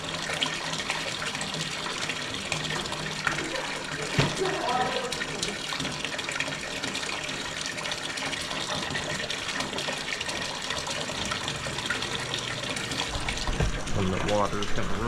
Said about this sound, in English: the water is gonna run over here